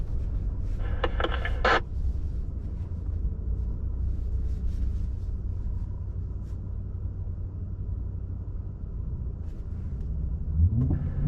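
Ford Raptor trucks drive along a snow-covered Trout Lake road in Alger, Michigan, heard from inside the cab as a steady low engine and tire rumble. Brief clunks come early, and the engine rises near the end.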